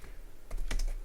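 Typing HTML on a computer keyboard: a short, close burst of a few crisp key clicks in quick succession, fairly quiet against a low background hum.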